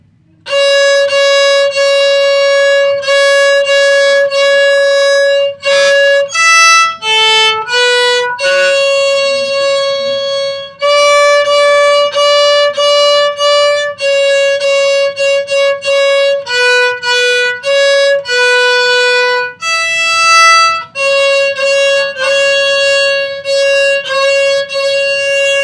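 A bowed string instrument plays three lines of Jingle Bells as a beginner's exercise, with clear sustained notes in steady phrases and short gaps between them, loud and close, and no talking.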